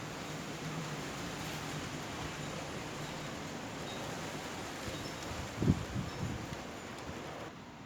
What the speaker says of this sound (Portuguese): O pior é que o vento é forte e ele toca a chuva.